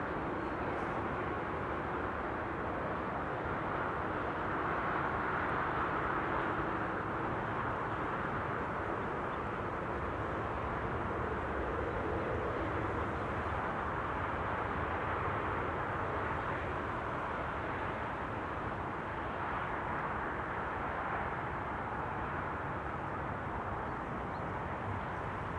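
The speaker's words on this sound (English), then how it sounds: "Emirates A380, the beast from the east." An Emirates Airbus A380 arriving at Amsterdam Schiphol produces a faint, steady, broad jet roar that holds evenly for the whole stretch, distant and without talk.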